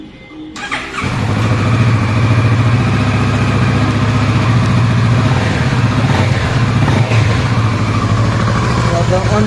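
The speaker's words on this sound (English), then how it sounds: "let's crank up the motorcycle and hear how it sounds" A 2021 Kawasaki Versys 650 motorcycle with an underbelly exhaust cranks and catches within the first second, then settles into a loud, steady, close-up idle that holds evenly to the end.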